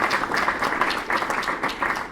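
An audience at a talk applauds, a steady patter of many hands clapping together, moderately loud and continuous with slight swells.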